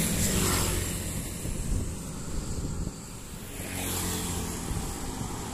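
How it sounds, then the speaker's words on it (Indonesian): Buses travelling westward from Yogyakarta on the southern Java road, two passes swelling and fading with broad engine and tyre roar at moderate distance. "2 armada bus terlihat dari arah Yogyakarta menuju ke barat"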